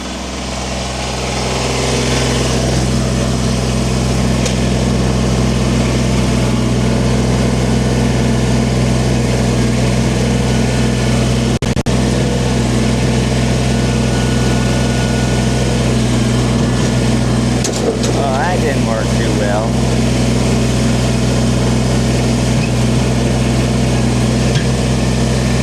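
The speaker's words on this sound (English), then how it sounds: "I'm going to use the tractor." A Kubota BX sub-compact tractor engine runs steadily and loudly nearby for the whole stretch, a constant droning hum with no pauses.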